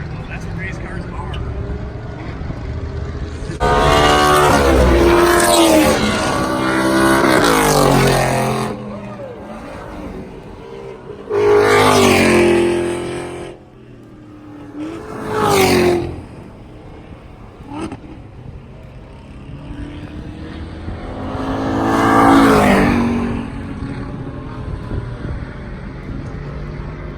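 A Ford Mustang Shelby GT500 race car engine roars loudly in several separate bursts as it revs and drives past, with quieter idling between the passes and people talking over the sound.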